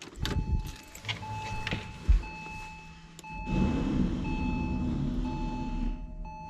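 Inside a Porsche Carrera 4 Cabriolet, a rear spoiler retracts with a faulty, strained mechanical whirring and grinding. A continuous warning beep tone sounds along with some clicks and knocks.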